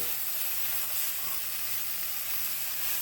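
Lamb chops browning in a stew pot, a steady close sizzle of frying meat that hisses evenly throughout with no voices.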